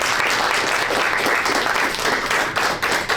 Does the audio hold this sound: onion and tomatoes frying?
no